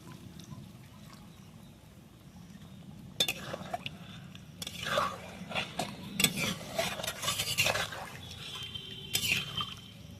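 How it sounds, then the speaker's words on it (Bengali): Milk poured into a cooking pot of potol (pointed gourd) curry, a vegetarian dish, brings a soft splashing rush with scraping and clinking of a utensil against the pot, louder in the second half, after a quiet simmering hiss. "এবারে দুধটা দিয়ে দেবো।"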